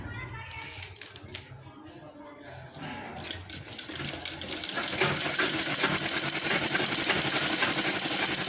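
A sewing machine stitches a lined blouse, starting slowly with a few taps and rising into a steady, fast mechanical whir, while someone talks over it.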